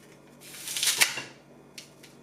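A NutriChopper is pushed down through a trimmed giant red onion, giving one close crunching, swishing slice that swells and fades over about a second, followed by a short, fainter tap.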